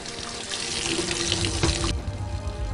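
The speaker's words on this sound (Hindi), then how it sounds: "तुरंत पानी का नल चलाया" A kitchen water tap runs in a steady rushing stream into a sink, splashing close by, then cuts to a quieter, duller flow partway through.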